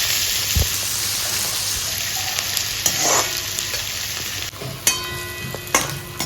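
Onions fry in a pan with a constant sizzle, broken by a few stirring scrapes and clinks near the end, and no one speaks.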